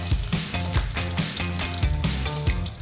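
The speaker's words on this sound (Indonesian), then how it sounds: "Tumis bumbunya sampai harum." A spice paste is stir-fried in a pan, a loud continuous frying sizzle with rhythmic scraping and stirring strokes recurring about twice per second, close up and with no talk.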